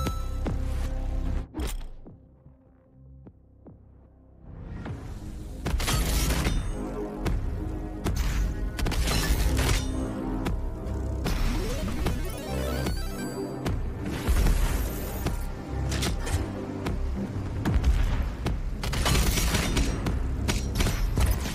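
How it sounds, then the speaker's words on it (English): Enemy gunfire in a video game battle, dense bursts of shots and booms that start after a quiet gap and keep up loudly and continuously over layered game sound. "Shooting at me."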